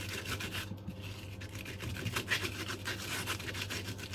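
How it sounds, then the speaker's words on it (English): Fresh okra pods rubbed with sprinkled salt give a continuous close gritty scrubbing, with rapid rhythmic rasping strokes over a low steady kitchen hum. "So, to remove the fur, sprinkle some salt and do like this."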